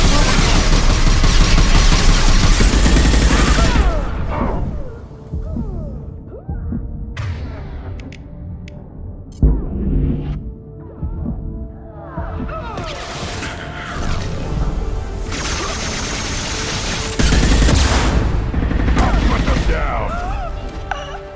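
Bursts of gunfire and heavy impacts from the video game Mass Effect 2 combat, dense and loud at the start and end with a quieter stretch in the middle, layered under game music and effects.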